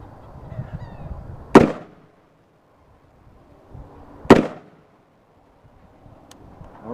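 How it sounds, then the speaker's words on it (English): Two loud, sharp rifle shots from an AR-15 firing XM193 and 62-grain rounds at a 6mm steel plate outdoors, each a sudden crack with a short echoing tail, spaced about three seconds apart amid quiet background noise. "I'm going to shoot, folks, for the upper right corner."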